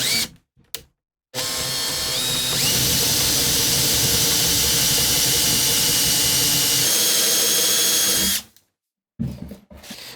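A power drill bores out a hole in a metal jig to 14 mm, a loud steady whine running for about seven seconds after a couple of short bursts, then cutting off with a brief restart at the end.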